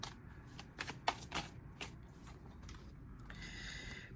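Tarot cards being shuffled during a twin flame reading, a run of soft papery riffles and flicks with a few sharper snaps, close and fairly quiet, with no talking.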